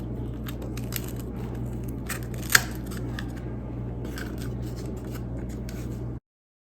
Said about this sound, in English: So we're gonna take a pair of scissors and just cut this little edge off so that it lies flush onto the table.